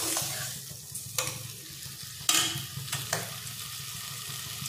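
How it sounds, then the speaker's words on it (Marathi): Prawn chutney mixture sizzles in hot oil in a pan, a steady frying hiss broken by several sharp scraping stirs, close and loud with no talking. "चांगले परतून घ्यायचे तेलावर."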